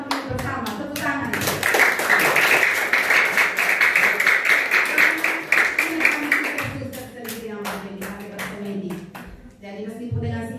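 Rhythmic hand clapping from a group at a Catholic closing Mass for a children's retreat. The claps fall in a quick, regular beat while voices sound together underneath, pausing briefly before clapping resumes.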